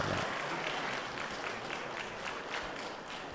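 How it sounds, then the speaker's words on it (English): Audience applause at a youth quiz night in a mosque, a dense wash of clapping that holds steady and then slowly thins out. "Let's give everybody a big round of applause before we go to the next round."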